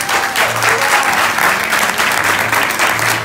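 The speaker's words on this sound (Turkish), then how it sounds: "Arkadaşlar ilk alkışı alalım buraya." Party guests applaud steadily at a 50th birthday party, a dense, loud clatter of many hands that holds throughout with no clear pauses.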